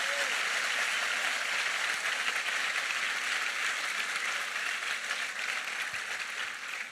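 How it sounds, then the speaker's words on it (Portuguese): A church congregation applauds loudly and steadily, a dense wash of clapping that holds for several seconds and thins only slightly toward the end, with no voices over it. "dê o melhor aplauso a ele aí, bem forte"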